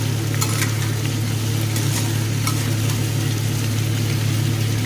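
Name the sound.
frying onion and tomato with taruli in a pan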